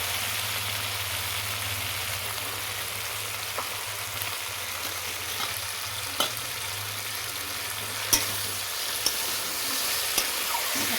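Vegetables and turmeric frying in a pan for Bengali shukto, a constant dense sizzle with a few light scrapes and taps of a stirring spoon near the end, close and steady, with no voices.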